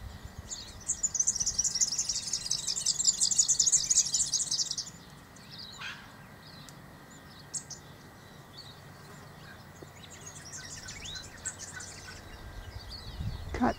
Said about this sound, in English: Just listen to all that birdsong.